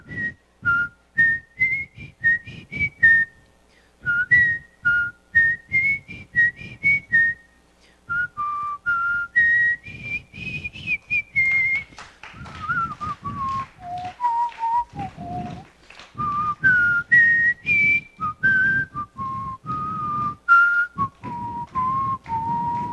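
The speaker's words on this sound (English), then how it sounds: "And you are going to whistle? A TV theme song from the series Hogan's Heroes." A contest performer whistles the Hogan's Heroes TV theme song at a state fair, a clear, close melodic whistle in short bouncing phrases with brief pauses, alone and loud.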